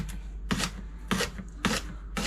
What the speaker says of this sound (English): right, let's get to chopping.